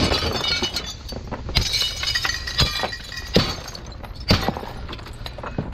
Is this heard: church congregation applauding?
no